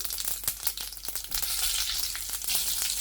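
Oil with mustard seeds and asafoetida sizzles steadily in a pan, a dense continuous frying hiss with scattered pops and crackles as the seeds spit, close up and without voices.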